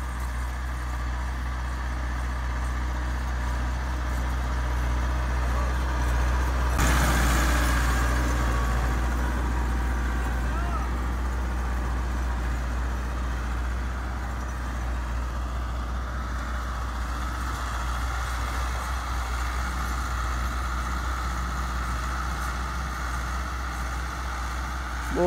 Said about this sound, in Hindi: बहुत ही प्यारा ट्रैक्टर है जी ये।